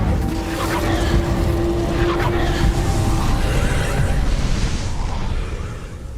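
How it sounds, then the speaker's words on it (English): A fire spell cast in Hogwarts Legacy, heard as a loud, sustained roaring whoosh of flame with a thin ringing tone through the first half, holding steady for about six seconds. "Incendio!"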